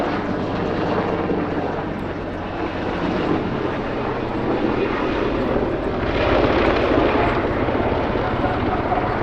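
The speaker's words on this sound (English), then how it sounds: "Despite being a large helicopter, the Apache is highly maneuverable." An Apache attack helicopter flying a display at an airshow, its loud, steady rotor and turbine roar filling the air continuously and swelling slightly toward the end.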